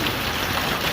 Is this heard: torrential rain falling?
yes